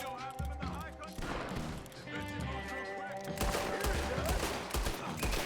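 Gunfire in Red Dead Redemption 2, with repeated bursts of shots layered over a busy game soundscape and music, loud and dense throughout and growing heavier toward the end.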